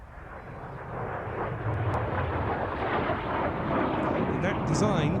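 A Folland Gnat jet flies at the RAF Waddington airshow, a loud broadband roar that builds after the first second and holds steady, heard outdoors with a faint voice beneath.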